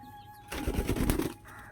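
Pigeons flapping their wings nearby in a brief loud flurry that lasts under a second and then dies away, with faint background sounds before and after.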